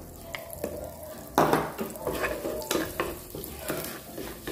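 Butter sizzles in a pan as the base for a béchamel white sauce, a soft steady frying hiss broken by repeated clinks and scrapes of a utensil stirring against the pan, close by with no talk.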